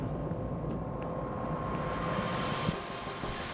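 A helicopter drones steadily, a low rumbling engine and rotor hum with a faint tonal whine above, continuous and unbroken.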